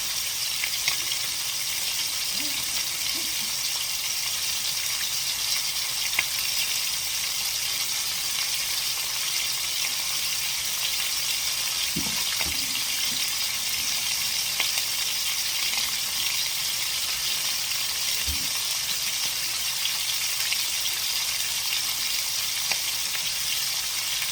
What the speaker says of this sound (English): So now all the ribs are cooking.